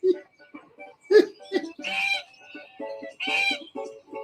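Geese honking at feeding time, a run of short nasal calls and cackles repeating close by in uneven bursts, fairly loud with no speech over them.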